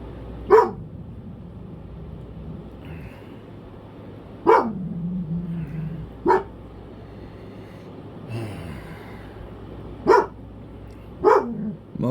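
A dog barks in short sharp bursts, about five separate barks spread out with pauses between them, close and loud over a quiet room with a faint low hum.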